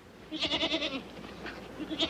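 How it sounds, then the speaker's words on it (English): Goats bleating on a farm, a run of several wavering bleats in quick succession, then a pause, then another bleat, moderately close with no talk. "I was trying to spot the goats."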